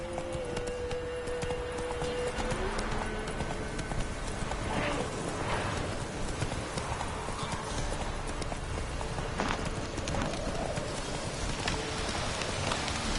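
Horse hooves clip-clop in a steady galloping rhythm in The Witcher 3 video game, a continuous close pattering with rain-like noise around it.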